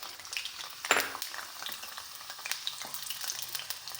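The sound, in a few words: cut amla pieces sizzling in hot oil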